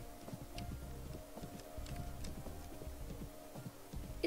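Horse hooves gallop in the riding video game Riding Star 3, a quick steady clip-clop rhythm of muffled thuds over a faint hum of background music, quiet and continuous.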